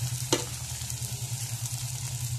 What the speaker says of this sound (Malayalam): ജസ്റ്റ് ഒന്ന് ചൂടാവുന്ന വരെ നമുക്കൊന്ന് വഴറ്റിയെടുക്കാം